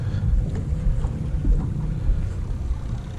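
A trolling motor runs in spot-lock mode on a 32-foot Sea Vee boat, a low steady hum and churn blended with wind buffeting and water noise, continuous and fairly close, with no talk.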